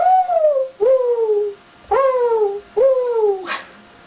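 A person imitates a mourning dove with four close, loud cooing calls, each a sliding, falling hoot separated by short pauses.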